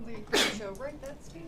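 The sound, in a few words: sneeze in a lecture hall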